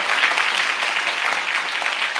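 A church congregation claps together in thanks to God during a service; dense, steady applause fills the whole stretch at an even level, with no voices over it.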